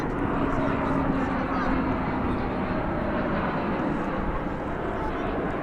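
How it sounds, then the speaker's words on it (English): An Airbus A321 arriving from San Francisco lands on runway 18 right at DFW Airport, its broad steady engine roar filling the scene at constant loudness, with a person speaking over it. "Flight 1064 arriving from San Francisco is about to land. We will pull out to bring that to you on an Airbus A321."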